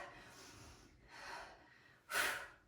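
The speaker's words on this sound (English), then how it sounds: "Exhale as you row up" Sharp breathy exhalations from a person doing kettlebell rows in a beginner upper-body workout, three puffs in a row, the last one loudest and close.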